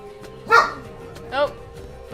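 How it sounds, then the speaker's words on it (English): A dog barks twice, sharp and fairly close, with a quiet pause between, and a third bark just starting at the end. "my dog's barking"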